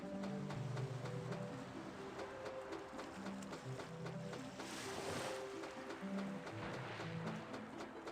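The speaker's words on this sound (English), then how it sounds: "I just like hearing the water in this place" Soft water ambience at the Sea of Mermaids in the game Grandia: a quiet, steady wash of lapping water and surf, with a gentle swell midway and faint musical tones underneath.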